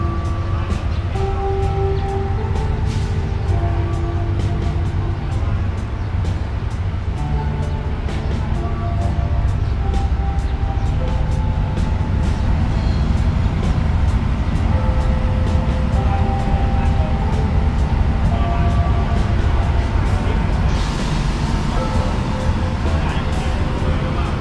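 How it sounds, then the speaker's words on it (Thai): An ordinary passenger train on the Nakhon Ratchasima–Ubon Ratchathani line rumbles in with a low, steady drone and clanking wheels, metallic squeals and tones rising over it, loud and close throughout. "จะมีรถไฟจากกรุงเทพเป็นรถธรรมดามาครับท่านผู้ชมครับ"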